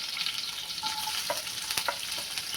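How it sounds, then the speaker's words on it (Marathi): Finely chopped onion and green chilli sizzle in a pan with a steady crackle, with a few sharp clicks of stirring on top, close and without talk. "थोडंसं चांगलं परतून द्यायचं आहे आपल्याला कांदा हिरवी मिरची."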